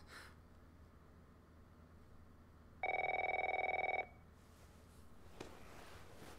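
A telephone rings once in The Last of Us, a bright trilling electronic ring lasting about a second over a quiet, hushed room.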